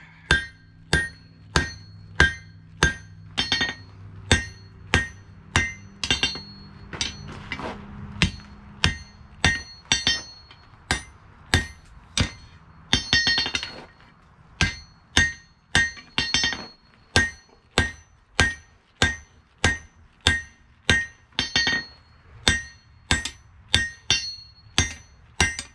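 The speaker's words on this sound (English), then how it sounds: "I took the handle, the reins to the power hammer to go ahead and draw them out kind of quickly" A power hammer draws out a pair of forged blacksmith tongs, delivering loud, evenly spaced metallic blows in quick rhythmic bursts, with bright ringing clinks and brief pauses between runs of strikes.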